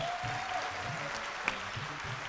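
Studio audience at a televised game show acting competition applauds steadily, a dense wash of clapping throughout with a sharp clap peak midway.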